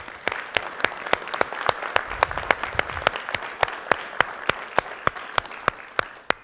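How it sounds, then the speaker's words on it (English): Symposium attendees applaud the sponsors at a water technology event, a strong, close clap cutting through with a regular beat against a bed of lighter, continuous applause from the room. "Please join me in giving a round of applause to our sponsors."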